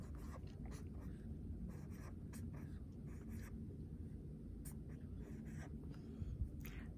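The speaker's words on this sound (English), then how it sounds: "I'm gonna write all of that right on this line." Pen or marker writing numbers along a line during a math lesson, a run of faint short scratchy strokes over low steady background hum, no talking.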